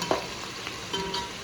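Onions, green chillies and tomato pieces fry in ghee for mutton dum biryani, giving a steady, close sizzle with a few brief stirring clicks and no talking.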